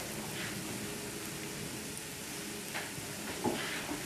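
Shrimps and sweet potato sizzle steadily as they heat in a pan, a continuous close hiss with a few faint clinks and stirring sounds near the end.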